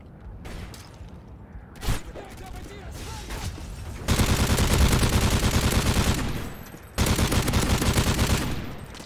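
Rapid bursts of ACR rifle fire in Call of Duty MW3, loud and close, with short shots and clipped tap-fire bursts early on, then two long sustained strings of gunfire.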